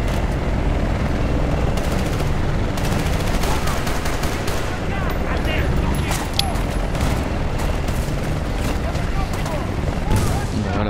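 Dense, continuous gunfire rattles in bursts over a steady helicopter rotor drone in the video game Battlefield Bad Company 2, loud and close throughout with occasional booms.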